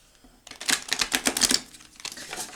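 Tarot cards from several decks being shuffled by hand, a burst of quick crisp riffling and flicking taps over about a second, then a softer second run of shuffling, close and alone.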